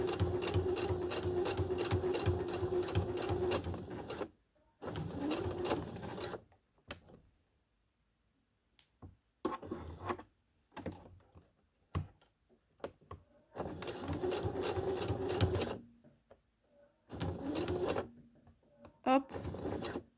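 Sewing machine stitching piping onto a patch pocket, running in several long bursts of steady mechanical whirring separated by pauses, with short clicks and handling sounds in the gaps.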